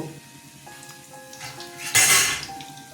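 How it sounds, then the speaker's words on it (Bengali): Oil sizzling as a batch of vegetarian jackfruit kofta balls fries, with a louder burst of crackling spitting near the end, plus faint clinks of cookware. "সমস্ত কোপ্তাগুলো আবার একসাথে তেলে ছেড়ে দিলাম"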